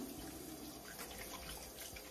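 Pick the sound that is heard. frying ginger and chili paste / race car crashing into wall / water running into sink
water running into sink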